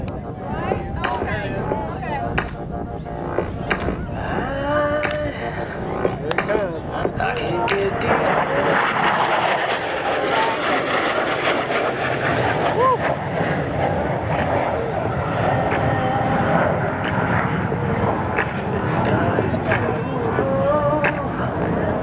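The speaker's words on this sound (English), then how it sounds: "watch as our opposing solo maintains level flight while performing the challenging slow roll" Thunderbirds solo jet performing a slow roll at an air show, its continuous jet roar sweeping across the sky under a commentator's voice on the public address and crowd ambience.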